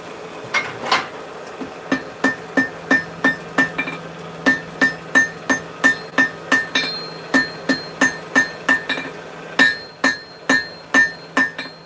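Steady hammer blows ring on steel being forge-welded, about two per second with brief pauses, each strike sharp and bright with a clanging ring.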